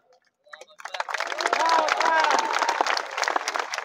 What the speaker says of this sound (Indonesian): Tengok orang ini ragu-ragu tepuk tangan